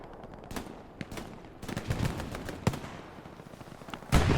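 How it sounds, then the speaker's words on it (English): Incoming rocket strikes in the World War II shooter Hell Let Loose at Purple Heart Lane, a rapid series of sharp blasts and cracks at varying distances, ending in a loud close explosion. "More rockets coming in"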